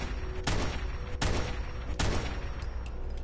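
Three loud bursts of gunfire in Fallout 4, evenly spaced about a second apart, each a sharp close blast with a lingering tail and no talk over them.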